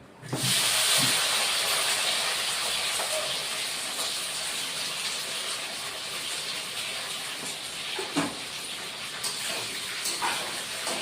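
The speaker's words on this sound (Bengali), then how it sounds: "এখন সিমগুলি ভেজে নিই" Flat beans fry in a pan for a vegetarian bean and potato curry, giving a steady, close hiss that stays loud throughout, with a few faint knocks near the end.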